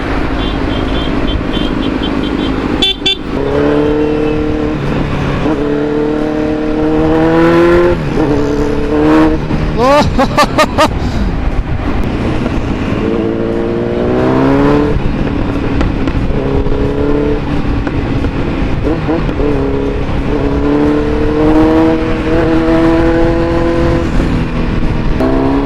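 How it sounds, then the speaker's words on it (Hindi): A Kawasaki Z900 motorcycle with an Akrapovic exhaust revs up and down again and again, its engine note climbing and falling in loud, close sweeps with a few sharp crackles. "Just hear the exhaust guys."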